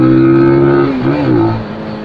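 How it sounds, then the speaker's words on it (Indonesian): A Benelli TNT 250 single-cylinder motorcycle engine revs up and climbs in pitch, holding a strong rising drone before easing off slightly near the end, close by with no talking. "semoga aja nih kalian bisa dengar suara motor ini"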